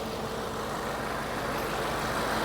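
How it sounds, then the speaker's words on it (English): A broken Audi RS7 bought from auction settles into a steady idle, a continuous broadband engine hum that stays even and fairly loud throughout with no talking. "Engine sounds good."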